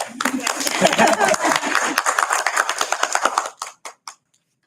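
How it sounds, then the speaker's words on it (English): An audience at a school board of education meeting claps, a brisk patter of sharp, close hand claps that thins out into a few scattered final claps and then silence, with voices mixed in. "Can we clap?"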